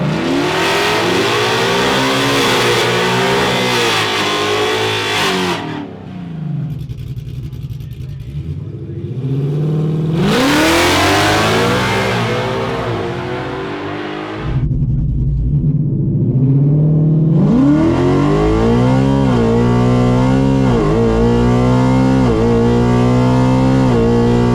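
The 2024 Silver Bullet, a Steeda drag race car at Mod Nationals, launches and accelerates down the track. Its loud engine climbs through rising revving sweeps with brief gaps between gear pulls, and there is no talk.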